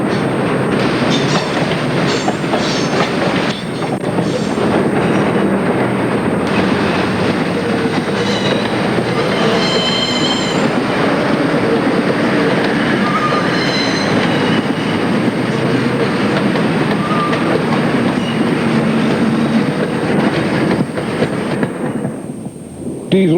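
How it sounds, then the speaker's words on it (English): An old diesel locomotive on the Kowloon-Canton Railway, built in the 1950s, hauls a special train, with a loud sustained rumble, clickety-clack of wheels over rail joints and occasional wheel squeal as it passes close by. "This train was headed by a recently outshot number 51, which had been the first diesel on the line in 1955"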